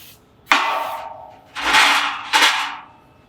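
A large insulated Lone Star Grillz vertical smoker being sprayed down to season it: three loud bursts of hissing spray, each about a second long, close by with no talk.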